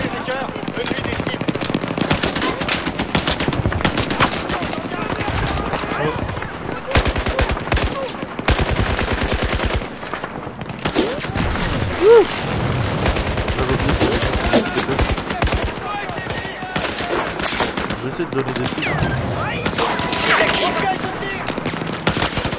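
Battlefield 4 combat on the Baku map: sustained bursts of machine-gun fire and grenade blasts, loud and close, with someone talking over the gunfire.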